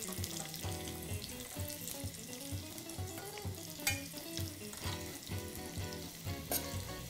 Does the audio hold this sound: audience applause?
no